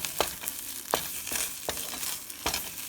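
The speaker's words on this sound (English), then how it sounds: "So keep frying this up nicely." Rice with carrot, beans and tomato sizzles steadily in a hot pan, with periodic scraping stirs at regular intervals and no voices.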